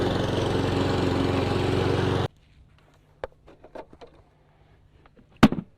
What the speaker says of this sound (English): It's a lovely modern silent mower